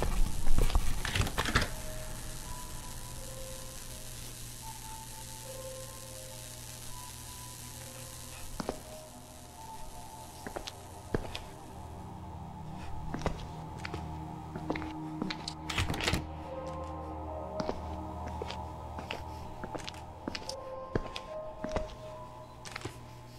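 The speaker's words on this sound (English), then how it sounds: "hearing a camera shutter clicking away" Rapid, irregular camera shutter clicks in the horror game Dark Fracture, sharp close ticks scattered over a steady low ambient hum, coming in bursts and clusters.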